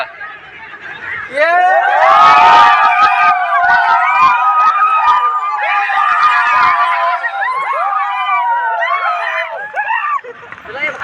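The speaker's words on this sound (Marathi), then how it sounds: "अशा प्रकारे जल्लोष होतो टीम जिंकल्यानंतर बघण्यासारखं असतं जल्लोष" A crowd of excited voices shouts and cheers together after a team wins a cricket final, loud and sustained, with overlapping yells and high-pitched cries.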